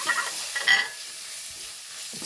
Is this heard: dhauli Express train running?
no